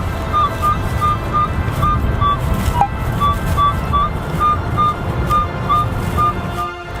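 Metal detector target signal in a wooded area, a repeated warbling beep pulsing steadily several times a second over low rumbling background noise, fairly close and clear with no talking.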